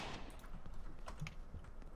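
Distant gunfire in the Apocalypse Rising mod game, faint rattling shots scattered through a short stretch of steady background noise.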